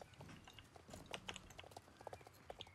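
Horse hooves in the video game Star Stable clip-clop in a quick, uneven galloping rhythm, moderately close, alongside faint tack jingles and light game sounds.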